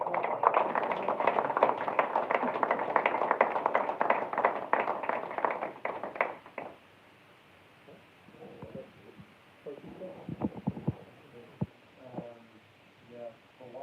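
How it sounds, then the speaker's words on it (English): Audience applause from a crowd, a steady dense patter of clapping for several seconds that cuts off, followed by scattered faint claps and quiet murmuring. "give a big round of applause"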